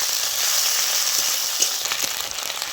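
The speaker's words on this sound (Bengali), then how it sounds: "আদা পেঁয়াজ খুব ভালো করে ভেজে নিয়েছি" Onion and ginger paste frying in a pan gives off a steady, close sizzle with occasional soft stirring scrapes and spatters throughout.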